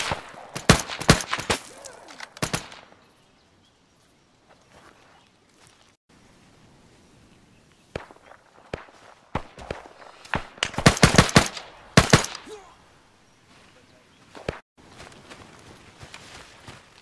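Gunfire crackles through a Vietnam-themed milsim skirmish in bursts of sharp shots, a dense flurry early, then scattered single cracks and a heavier volley near the end, with quieter gaps and faint movement between.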